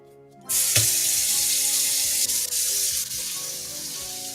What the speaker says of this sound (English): Just letting the water warm up a little.